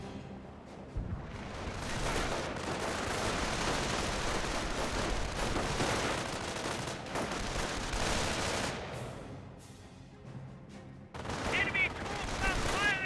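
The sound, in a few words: gunfire in the video game Company of Heroes 1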